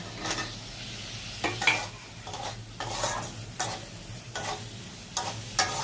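Potatoes frying in spiced oil for a fish roe curry are stirred in a pan, giving repeated scraping strokes every second or so over a steady low sizzle, close and moderately loud, with no voices.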